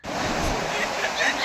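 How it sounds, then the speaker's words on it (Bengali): Steady rushing roar of a waterfall near the Bhutan border, broad and continuous with a faint hiss of wind, close and fairly loud. "জল বয়ে চলেছে, দেখো খুব সুন্দর লাগছে দৃশ্যটা"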